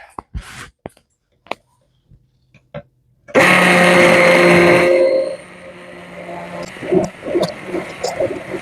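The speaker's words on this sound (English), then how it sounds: "A stick blender is a wonderful thing." A stick blender whirs loudly for a couple of seconds after some clinks and clatter, then drops to a lower churning hum with scattered knocks.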